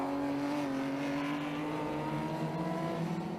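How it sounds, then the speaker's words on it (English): Light blue MGB classic racing car driving on the Snetterton circuit, a steady, close engine drone holding a constant pitch, loud and continuous throughout without any speech. "Mark Hope at the wheel of the light blue number 55 MGB, threading his way out of Murray's"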